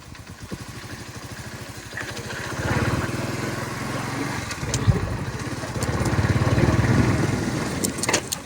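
A motorcycle engine putters along at low, steady revs on a rough village dirt road, the throttle swelling gently a few times. The bike stays close and continuous, with no voices.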